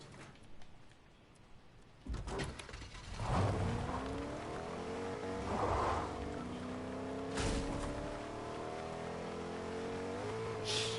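A truck in a video game drives along with a steady engine hum and rising gear-change whines, fairly close and continuous, with a few heavier bumps and surges along the way.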